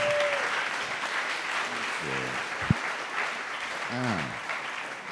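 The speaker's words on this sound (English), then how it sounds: "applause." Steady applause from a crowd at a full moon ceremony fills the whole stretch, continuous clapping with a brief sharp knock partway through.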